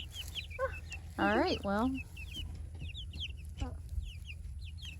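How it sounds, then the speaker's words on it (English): Backyard chickens, including young birds, cluck and chirp in short bursts with a louder squawking run, close by, while a person speaks briefly. "Look at that, chicks."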